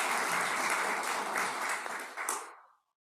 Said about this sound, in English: Let's give him a round of applause for his work.